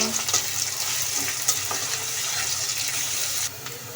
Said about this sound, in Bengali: এখন মরিচ পেঁয়াজটা হালকা বাইজা নিব